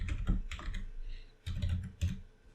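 Computer keyboard keys tapped in quick irregular bursts while entering a password, soft close clicks with short pauses between clusters, no voices.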